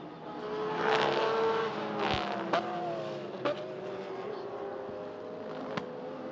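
A Porsche race car in a sprint race drones steadily throughout, with engine tones shifting as cars pass, several sharp clicks or pops breaking through, and other race cars close by.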